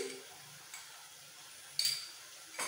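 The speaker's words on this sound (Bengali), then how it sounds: "মশলাটা একটু কষিয়ে নেব" Spice masala mixed with whisked sour yogurt is stirred and fried for Punjabi dhaba-style aloo dum, giving a faint, steady sizzling hiss broken by a few soft scraping clicks.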